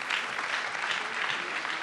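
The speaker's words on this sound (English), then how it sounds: "A round of applause for him, please." Audience at the Tony Elumelu Foundation Entrepreneurship Forum applauding the Lagos State representative, a short burst of dense, even clapping across the hall.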